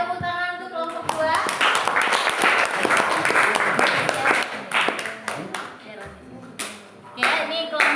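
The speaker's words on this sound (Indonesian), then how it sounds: "Ya, tepuk tangan untuk kelompok 2." A class of children and their teacher clap their hands in applause for the second student group, a dense, steady burst of many hands lasting several seconds, with some voices calling out over it.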